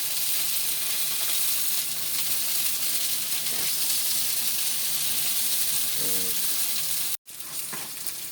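Butter sizzles and fries steadily in a hot pan for a seeded mixed seafood dish, a loud continuous crackle with a brief scrape of stirring near the end.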